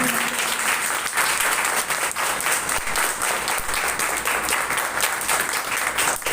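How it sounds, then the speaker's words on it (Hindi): Loud, sustained applause from a church congregation at a Sunday worship service, dense clapping filling the whole stretch evenly without a break. "एक बार जो लोग पहली बार आए उनके लिए जोरदार तालियां बजाएं।"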